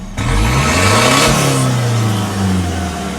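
A car engine revs hard after a fuel injector repair, climbing quickly to a loud, steady roar that holds for a few seconds with a slight dip near the end.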